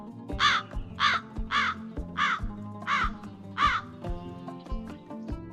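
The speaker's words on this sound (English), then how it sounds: "crows communicate with each other using a wide range of sound" Crows caw repeatedly, six harsh, evenly spaced calls about half a second apart, loud and close, with no other voices.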